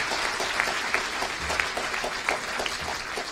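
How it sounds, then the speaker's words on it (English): An audience at a community forum in Wayne Township claps steadily, a dense patter of hands with some louder individual claps standing out, with no talk over it. "Let's give them a round of applause."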